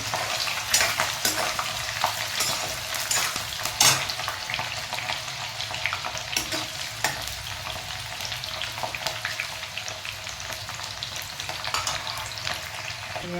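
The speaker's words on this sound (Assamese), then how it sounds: "চাওক, মই পিঁয়াজ দি লৈছোঁ।" Onions sizzle and fry in a pan as a spoon stirs them, with scraping and clinking against the metal, a constant hiss throughout and sharper knocks at intervals, close and steady with no talk.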